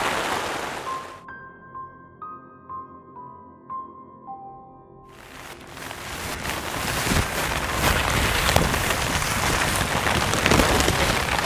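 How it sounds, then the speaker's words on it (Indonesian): Light drizzling rain outdoors by a riverside monument begins as a steady hiss after a quiet opening with a few clear ringing tones, then holds as a dense, even patter through the rest. "Cuacanya di sini masih hujan, rintik-rintik, cuman ini cukup berkurang ya."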